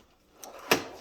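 A Harbor Freight five-drawer tool cart's junk drawer slides along its runners, then shuts with a firm, close thump; no voices.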